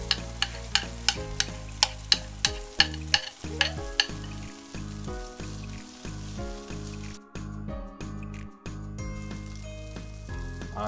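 Coconut flour pancake batter and oil in a pan: a steady crackling sizzle with a run of sharp ticks early on, then continuous frying close by.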